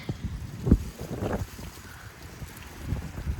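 Strong wind gusts across the microphone outdoors during fruit harvesting, a loud low rumbling buffet with uneven surges and no clear speech.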